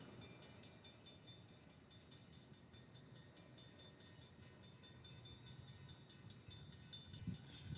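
A train heard from a city street sends out a faint, distant rumble with a high metallic hiss over it. The sound stays steady and low for several seconds, and a brief louder thump comes near the end.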